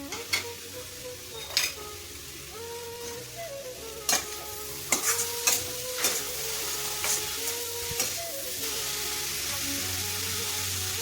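Green beans and capsicum sizzle steadily in a hot pan while a spoon stirs them, with sharp scraping clinks against the metal at irregular intervals over the constant frying hiss.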